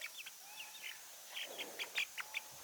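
Pet birds chirp indoors with a short run of faint, high tweets and twitters that grow slightly louder toward the end, over a soft steady background hum.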